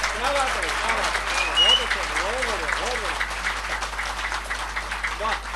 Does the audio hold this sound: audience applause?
yes